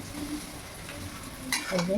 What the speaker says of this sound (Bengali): পেঁয়াজটা কিন্তু প্রায় আমার হয়ে গেছে ভাজা ভাজা